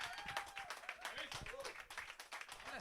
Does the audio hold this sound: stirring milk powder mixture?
no